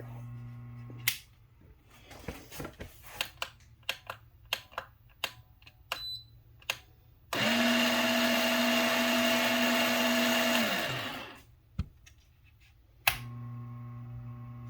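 A Eureka Zero single-dose coffee grinder grinding beans whirs steadily for about four seconds, then winds down, preceded by scattered clicks and taps; fairly quiet and close.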